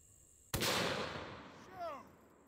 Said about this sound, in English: Okay, Shooting again, I guess so. round number 2.